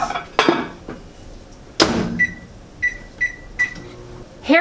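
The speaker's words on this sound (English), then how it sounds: "I'm going to go nuke this real quick and melt the cheese" A microwave oven heating food to melt cheese gives a few thuds from its door and controls, then a run of four short, clear electronic beeps close by. No one speaks.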